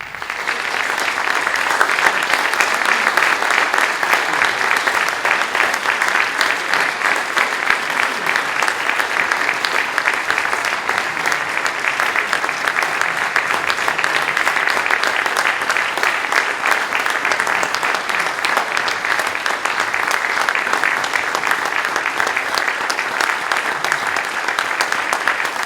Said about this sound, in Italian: Io però gradirei che voi faceste ancora un grande applauso a tutti e tre i cori.